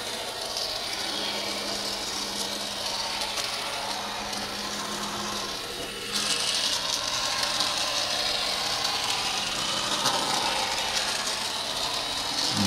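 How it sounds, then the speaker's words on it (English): A BLI model hi-rail vehicle runs down the main line of a model railroad layout, giving a steady mechanical whir and rattle that holds evenly throughout and grows slightly louder partway through. "Here comes the Hi-rail vehicle in the dant here."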